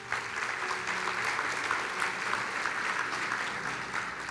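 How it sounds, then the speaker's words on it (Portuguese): A church congregation applauding, a continuous even patter of many hands clapping together, steady and moderately distant for several seconds with no voices. "Você pode aplaudir a ele?"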